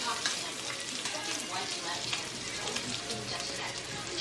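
A child gently stirs food in a sizzling frying pan, a soft steady hiss with light scraping, fairly quiet and close.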